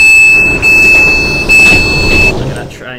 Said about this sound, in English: Look at that train, it's very loud.